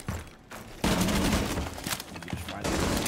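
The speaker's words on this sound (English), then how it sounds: "I just probably wallbang him." Gunfire punched through a wall in the tactical shooter Rainbow Six Siege, a loud crackling volley of shots with a brief pause, then more sustained shooting and thuds.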